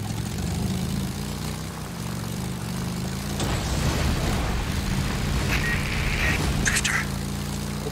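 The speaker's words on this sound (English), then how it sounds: "One of our helos is heading toward your position now." A helicopter in the video game Days Gone gives off a steady low rotor and engine drone, with a few sharper game sounds layered on top.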